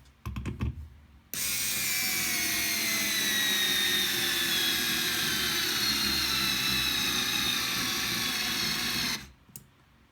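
A 3.6V IKEA FIXA cordless screwdriver drives a 5x50 mm screw in one steady whirring run of about eight seconds, loud and continuous, with the motor pitch easing slightly downward as the screw bites in, then cutting off.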